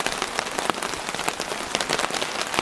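Steady rain patters on a tarp overhead on a wet forest trail, a dense close hiss of drops with scattered louder taps, no voices.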